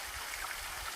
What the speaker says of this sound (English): On my right now, I'm joined by the Castleman River